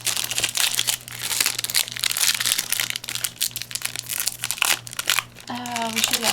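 Yu-Gi-Oh 5Ds Duelist Genesis booster pack foil wrappers crinkling and tearing open close by, continuous crackle throughout with a voice talking over it.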